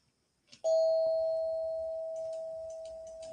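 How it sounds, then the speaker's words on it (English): A single doorbell chime rings out during a live stream, one sustained bright tone with a metallic overtone that decays slowly, loud and close, with faint background noise and no talking. "Okay, so that's a doorbell."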